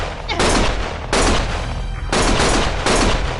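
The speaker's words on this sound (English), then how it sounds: "Stop shooting!" Gunfire in a video game: loud, dense volleys of rapid shots in three or four sustained bursts separated by short gaps, close and harsh.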